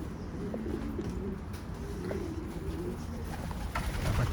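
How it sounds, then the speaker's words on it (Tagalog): Pigeons at a loft cooing in soft, repeated low calls over a steady background hum, a few faint chirps mixed in, close by and without talk. "Tapos papakita ko sa inyo mga kalapate."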